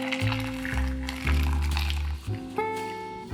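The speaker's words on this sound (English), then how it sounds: "Add some hot water." Hot water poured over four cut tomatoes in a kitchen, a close steady gush and fill with shifting tone, briefly broken and resumed, no talking.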